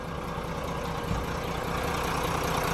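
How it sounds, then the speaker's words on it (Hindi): A Volvo B11R coach bus engine idles with its engine cover opened before a Delhi to Manali run, a steady low diesel rumble that stays constant and fairly loud with no talk over it. "तो भाई ये B11R का कुछ इंजन है, देख रहे हो कितना घातक इंजन लग रहा है"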